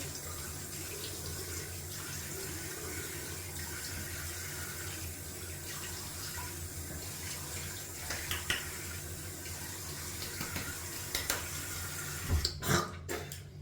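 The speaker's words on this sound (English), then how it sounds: "Just gonna rinse off that alum." Water runs steadily from a tap while alum is rinsed off after wet shaving, a continuous close splashing flow with a few brief knocks and clatters near the end.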